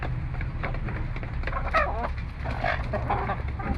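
Chickens clucking and squawking in short bursts over a low background hum, moderately close, no talking.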